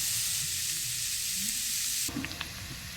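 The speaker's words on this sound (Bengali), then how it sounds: "এবারে সব কিছু একসাথে খুব ভালোভাবে মিশিয়ে নেব।" Egg and vegetable chowmein stir-frying in a pan, a bright steady sizzle that drops off abruptly near the end, followed by a few light clinks and scrapes of tossing, nearby with no voices.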